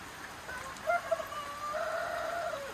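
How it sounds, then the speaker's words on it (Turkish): Steady soft patter of rain falling outdoors in a village in Turkey's Black Sea region, with a few faint bird calls rising over the background hiss. "Çok güzel yağmur yağıyor."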